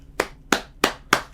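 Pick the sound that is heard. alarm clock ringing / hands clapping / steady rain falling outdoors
hands clapping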